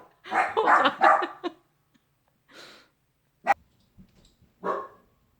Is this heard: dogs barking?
yes